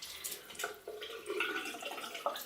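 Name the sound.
water splashing while wetting face and hands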